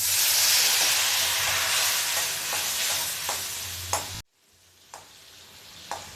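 Water hits hot oil in a pan of frying potato and bora curry with turmeric, making a loud, close sizzle and hiss that fades and then drops sharply, followed by quieter bubbling.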